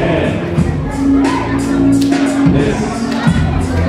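Crowd at an awards show for Haitian films cheering and clapping over a steady hum, dense and fairly loud, with voices talking through the noise.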